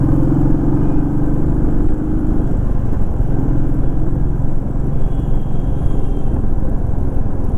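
Busy road traffic bunched at a U-turn in Bangalore, with a steady mix of car and motorbike engines, some revving, held close and continuous throughout.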